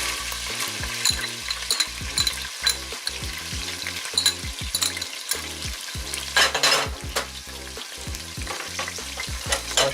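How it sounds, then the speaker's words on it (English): Onions and shallots hit hot oil in a pan and fry with a steady crackling sizzle, while a utensil stirs them in repeated scraping strokes, close and fairly quiet. "So now we're going to, with our oil, we're going to add our onions."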